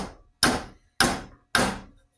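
Hammer driving a wooden dowel into a cracked axe handle: three sharp, loud, evenly spaced wooden strikes, each ringing briefly and decaying, close and alone with no talking.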